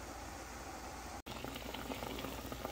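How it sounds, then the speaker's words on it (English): Pig ears boiling in salted water with kaffir lime leaves and lemongrass, a steady dense bubbling and popping at close range, continuous apart from a momentary cut. "let this boil for about maybe half an hour"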